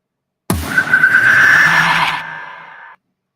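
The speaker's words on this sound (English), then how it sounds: "So stingers are sounds like this." A horror stinger effect from a sound library: a sudden loud hit swelling into a shrieking, squealing tone that holds for about two seconds and then cuts off, with no talk.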